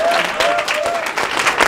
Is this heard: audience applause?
yes